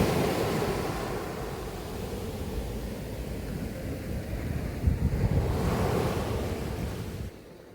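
Sea waves wash onto a sandy beach, a steady broadband surf roar with a brief louder swell near the end, some wind across the microphone, no voices.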